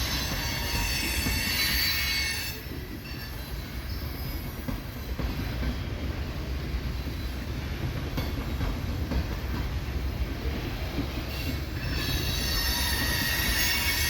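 A BNSF freight train rolls past a classification yard at Hobson Yard in Nebraska, with loud, continuous high-pitched wheel squeal over a rumbling, grinding rail roar that stays close and steady throughout.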